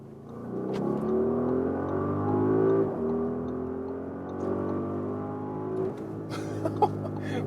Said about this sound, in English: Audi RSQ8, 600 horsepower. Let's put to the RS mode, hit the German motorway, Autobahn time